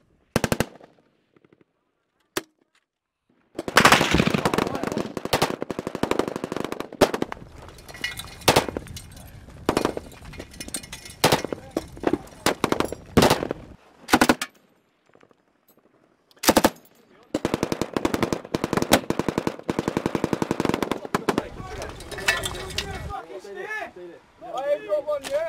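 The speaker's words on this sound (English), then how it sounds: "Smorge, if you need to fire, fire! Compound E6, gents!" Sustained machine gun fire in a firefight in Afghanistan, long loud bursts close by with brief pauses, some sharp clinks and distant shots, and shouting voices in between.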